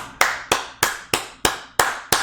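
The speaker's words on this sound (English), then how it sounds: "The applause." Slow, deliberate single handclaps, seven in about two seconds, each loud and sharp with a short decay, spaced evenly like a sarcastic applause.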